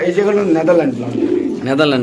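Caged pigeons coo in low, rolling, throaty phrases close by, partly overlapping a man's speech, with a short lull in the middle before the cooing rises again.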